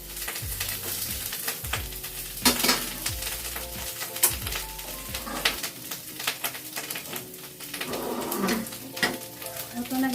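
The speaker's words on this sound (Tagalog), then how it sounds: "Ito na itong gisahon na kamatis" Tomatoes sauté in a pan for sarsang bulad, a dried-fish dish with mixed vegetables, sizzling steadily while a utensil stirs and scrapes in repeated bursts, with faint background noise.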